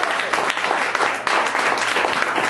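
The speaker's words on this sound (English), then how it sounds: "Give him a great big round of applause," Audience applause for a musician about to perform, steady dense clapping throughout at a constant level, close and full with no talk over it.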